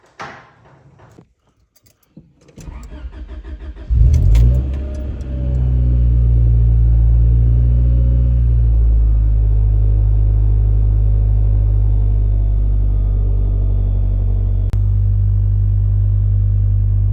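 A worn Honda Prelude starts with some clunks and a catch, then idles steadily, a loud, close low rumble that stays even without surging. No one speaks.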